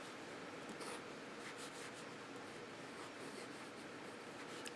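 A Wave Webson Gill fountain pen, unused for several days, writes on paper with faint, close scratchy rubbing strokes and brief louder scrapes.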